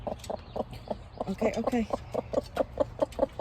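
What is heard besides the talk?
chickens clucking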